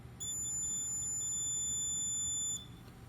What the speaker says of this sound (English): test it with my conductivity tester